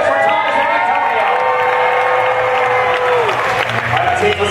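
Live crowd at an outdoor stunt-show event cheering, whooping and clapping for two contestants, a loud sustained roar with a host's voice talking over it.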